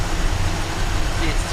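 A Chevrolet El Camino sits idling on flat level ground, a steady low engine rumble with constant broadband noise that holds without change.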